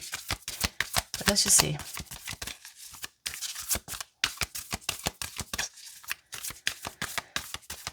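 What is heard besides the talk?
shuffling tarot cards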